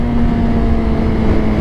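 A 20-year-old Honda CBR 600RR motorcycle pulls through a tunnel, a steady loud engine drone with a sustained tonal whine that holds level, reverberant and close throughout, with no talking.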